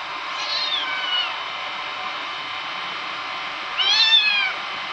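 A cat meows repeatedly while being carried and dangled, with rising and falling cries early on and a louder, strained yowl near the end over steady background hiss.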